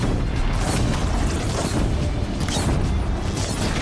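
Dense, continuous rumbling roar of fire and booming impacts as an enemy machine is set ablaze in Horizon Zero Dawn, loud and steady throughout with no voice over it.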